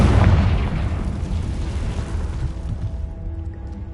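A Confringo blasting spell detonates in Hogwarts Legacy with a loud, deep booming explosion that bursts at once and rumbles away over several seconds, alone with no voices.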